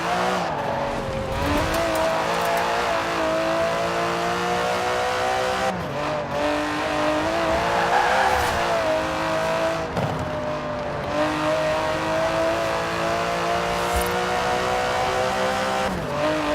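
Aston Martin DB11 with a 5.2-litre twin-turbo V12 in Forza Horizon 4 roars loudly and continuously, its engine note climbing and falling through repeated gear changes, with brief bursts of tire squeal along the way.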